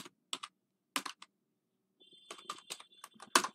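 Computer keyboard being typed on to enter a command: short clusters of crisp, close keystrokes separated by brief pauses, ending in a faster run of taps.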